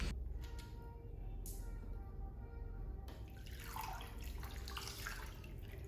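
Hair dipped into an apple cider vinegar rinse in water, giving soft sloshing and light trickling with a faint steady background wash, close and fairly quiet, with no speech.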